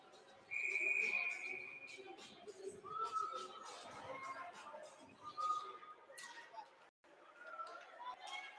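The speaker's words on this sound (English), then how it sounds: "So it's whistled off sides." Referee's whistle blown for offside during a youth squirt ice hockey game, a sharp high tone heard once near the start amid crowd and rink noise, with a commentator talking throughout.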